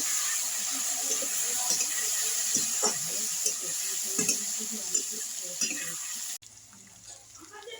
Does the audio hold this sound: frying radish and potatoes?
yes